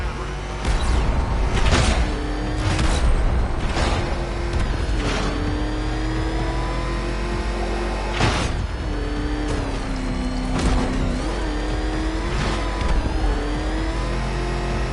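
The Batmobile's engine hums and revs in Batman Arkham Knight, with sharp repeated bursts and impacts over a sustained mid-pitched engine drone and voices heard faintly in places.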